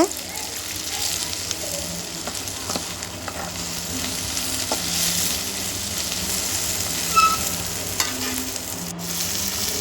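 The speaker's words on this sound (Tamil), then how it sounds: "இது கூட கொஞ்சோண்டு தக்காளி சேர்த்து நல்லா வதக்கிக்கலாம்" Onions and tomato sauté in a pan for Tamil egg thokku, giving a steady close sizzle with occasional soft stirring scrapes and almost no other sound.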